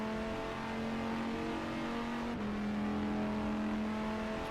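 An EGT race car's engine in a racing video game at Estoril holds a loud, sustained drone with a steady pitch that steps once at a gear change, alone and without talk.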